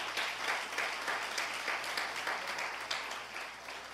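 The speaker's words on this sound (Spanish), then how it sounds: "Dele fuertes aplausos al Señor." A church congregation applauds during an evangelical service, steady rhythmic clapping that fills the room, moderately distant with a faint low hum beneath.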